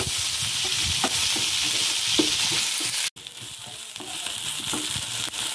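Chopped onions fry in a pan, giving a steady, loud broadband sizzle throughout, with a few soft stirring knocks and a brief drop-out near the middle; no talking.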